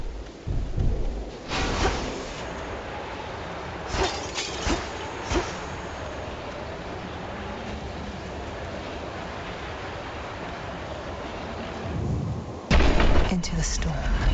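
Thunderstorm ambience in the Hades II video game: continuous rumbling rain-like noise broken by several sharp thunder cracks, with a heavier boom near the end, while a voice talks over it.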